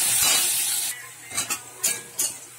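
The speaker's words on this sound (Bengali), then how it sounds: "একটু পেঁয়াজ কুচি দিয়ে দিলাম।" Chopped onion hitting hot oil with five-spice and dried chilli, a loud hiss that quickly fades, followed by a few distinct scraping stirs of a spatula in the pan.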